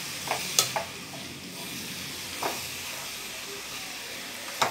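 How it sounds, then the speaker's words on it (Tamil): Four eggs sizzle and fry steadily in a pan with beans and broad beans, a close continuous hiss broken by a few sharp scrapes and clinks of a spoon stirring. "இந்த ஸ்டேஜில் 4 முட்டை ஊற்றி நல்லா கலரிக்கோங்க."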